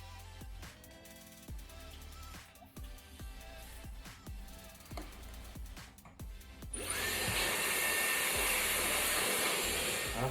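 A hair dryer blows a section of hair upward during an at-home blowout; soft clicks and handling noises come first, then the dryer switches on into a loud, steady, close rushing hiss that continues to the end, no talking.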